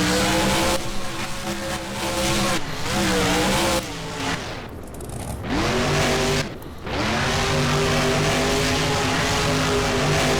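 Gravedigger monster truck in the BeamNG video game spinning around and rolling over during an Arlington freestyle run, with a loud roaring engine revving, dropping out twice and surging back, plus tire noise.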